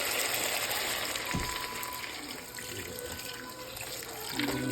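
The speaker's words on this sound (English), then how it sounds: "So right now I'm just gonna pour me some water." Water pours steadily from a household water filter into a container, a continuous close splashing gush that swells slightly near the end as the vessel fills.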